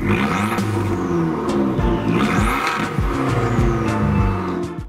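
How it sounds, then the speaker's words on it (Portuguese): Abarth 595 Record Monza with a 1.4 turbo engine and exhaust valve, revving hard with rising and falling engine notes and rapid gear changes, loud and close, no talk. "Inclui ainda uma válvula de escape que soa mais ou menos assim."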